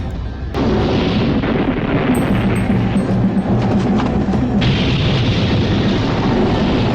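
Cannon fire booms in a battle scene as colonial Dutch company troops fire on fighters, heavy rumbling blasts with a sharp crack at the start, layered and loud throughout.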